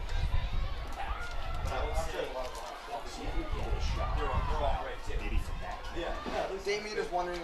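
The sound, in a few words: crowd at a girls' lacrosse game at Casagrande Field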